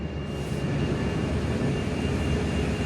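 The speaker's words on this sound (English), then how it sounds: "Qantas A320, it's just departing Perth Airport now." A Qantas Airbus A320 departs Perth Airport, its jet engines giving a steady, loud broadband roar that holds level throughout without any voices.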